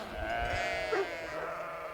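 Sheep grazing on a mountain pasture bleat clearly, with a long wavering call in the middle over faint background noise.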